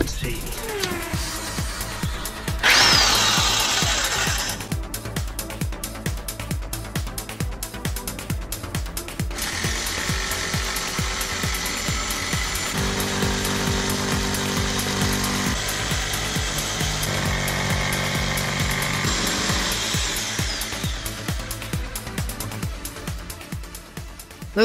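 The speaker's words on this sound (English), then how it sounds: "it's time to get the jigsaw out." A jigsaw cuts through a wooden shelf for a hamster cage, its blade chattering in a loud, rapid, ratcheting buzz that runs continuously for most of the span and shifts pitch as the cut goes on.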